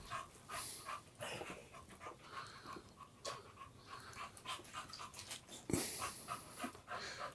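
Otto the dog, just back from a vet visit, pants in steady rapid breaths close by, with soft wheezy whimpers mixed in and a brief sharper noise near the end.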